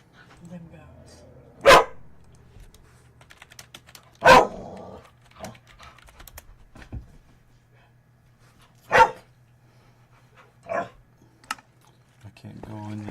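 A dog barks in several sharp, loud isolated bursts spread apart, with quieter clicks and light tapping between them and a person's voice heard around it.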